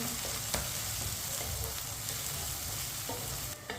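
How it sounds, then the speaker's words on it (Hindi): Ginger and garlic fry in a pan for a daal karela dish, a steady close sizzle with scattered stirring scrapes running throughout, no voices. "अदरक और लहसुन को भी मिक्स करके 1 मिनट के लिए पका लेंगे"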